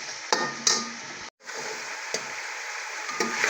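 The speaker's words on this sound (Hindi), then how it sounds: "अब इसके साथ इसको फ्राई करेंगे" Chicken fries with garlic and onion in a pot for korma, giving a soft, close sizzle broken by a few sharp spoon knocks and scrapes of stirring, with one very brief cut to silence partway through.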